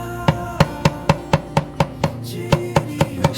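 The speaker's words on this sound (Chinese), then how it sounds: "先切上些点鲜椒， 再配上些点小米辣" A knife chops fresh chilies on a board in quick, even strikes, about a dozen crisp close knocks at a steady rhythm with no talk.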